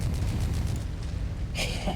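Explosions in MechWarrior 5 during a demolition mission: a continuous rumbling boom with a sharper crackling burst near the end, loud and dense with no pauses.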